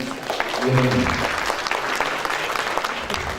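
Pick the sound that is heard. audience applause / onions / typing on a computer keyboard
audience applause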